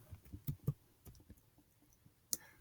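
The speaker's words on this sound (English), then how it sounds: "I'm gonna try typing as fast as I can." Quick, irregular clicks of typing on a computer keyboard, close and fairly quiet, with a sharper keystroke near the end and no talking.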